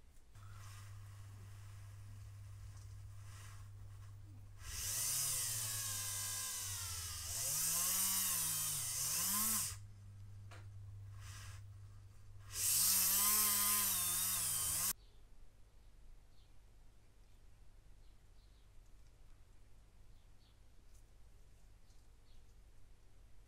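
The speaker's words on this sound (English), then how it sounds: "the best thing to do is to drill the blast bag out a little bit" A small power drill whines in three short bursts, drilling out a plastic 1/200 HMS Hood model part, its pitch dipping and rising under load, then stops, leaving a quiet room hum.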